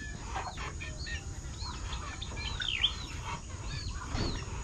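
Roosters and chickens cluck and call softly in a backyard pen, scattered short notes over a low background hum.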